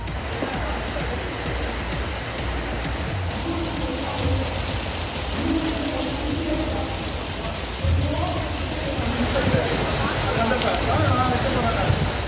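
Heavy rain pours in the Chidambaram area of Cuddalore district, a constant dense hiss of drops on surfaces at close range with a few louder patters, and faint voices underneath.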